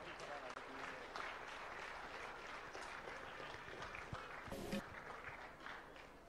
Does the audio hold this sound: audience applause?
yes